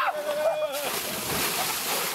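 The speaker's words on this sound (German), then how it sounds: "springen ins Wasser" People jumping into a lake in Finland, with a sudden splash and sloshing water filling the rest of the short clip after a moment of background noise and voices.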